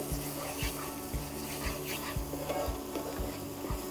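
Food cooks slowly in a pan while a spoon stirs it in an even rhythm of soft scrapes, roughly twice a second, over a faint sizzle.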